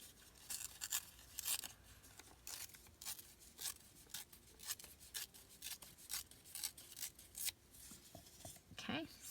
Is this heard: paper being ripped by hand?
yes